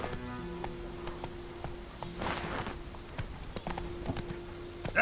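Roach the horse galloping in The Witcher video game, a quick steady clip-clop of hooves close by with a faint snort, no talking.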